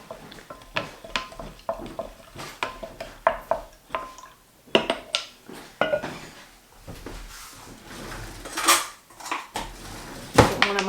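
A big spoon clinks and scrapes repeatedly against a glass jar while stirring kefir water, a steady run of sharp metallic knocks and rattles, close and clear, with no voices.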